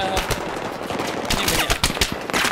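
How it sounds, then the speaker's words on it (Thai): Battlefield 3 gunfire in rapid automatic bursts. Sharp, close cracks repeat throughout at a loud level, with little talk over them. "ยิงมาจากไหนอ่ะ"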